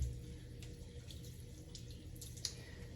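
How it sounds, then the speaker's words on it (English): Tap water runs steadily into a sink while conditioner is rinsed off hands, with soft splashes and a few drips close by over a constant low flow. "now it's the first time I'm gonna go ahead and rinse my hands."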